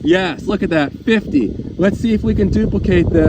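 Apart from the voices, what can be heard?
No everyday noise stands out behind the speech.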